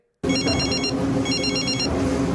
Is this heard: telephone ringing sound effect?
yes